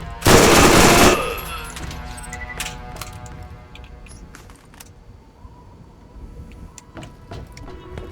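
A drum-fed bullpup SMG in the video game Borderlands 1 fires one loud, close burst of rapid shots lasting about a second, followed by quieter clicks, clanks and scattered distant pops.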